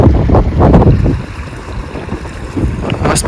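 Cool wind gusting across a hilltop overlooking a highway, a steady rushing buffet against the microphone that swells and eases, loud and close, with no talking.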